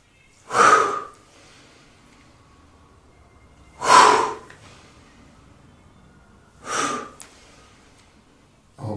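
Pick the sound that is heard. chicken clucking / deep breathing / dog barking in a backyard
deep breathing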